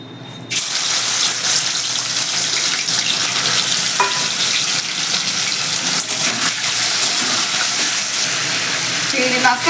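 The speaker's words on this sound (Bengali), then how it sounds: "চিংড়ি মাছটাকে নুন হলুদ মাখিয়ে এবার ভেজে নেব" Shrimp rubbed with salt and turmeric sizzles steadily in hot mustard oil for a Bengali jackfruit-and-shrimp dish, a loud, continuous crackling fry that starts abruptly and runs to the end with no talk.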